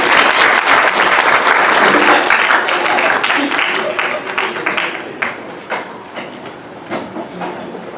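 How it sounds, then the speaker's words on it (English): A banquet audience at Central High School applauds, loud dense clapping that gradually thins into scattered claps, with some talking in the room. "Let's give them a round of applause."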